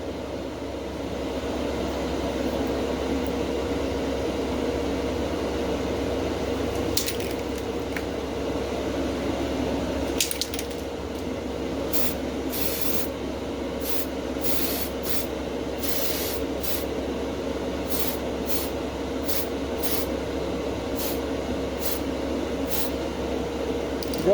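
Matte black spray paint hissing onto the chassis of a Matchbox No. 36 Opel Diplomat model car, a steady close hiss broken by a series of short sharp bursts, with no talking.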